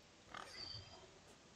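A pig in Pathfinder: Wrath of the Righteous gives a single short, faint oink, soft and brief against near silence.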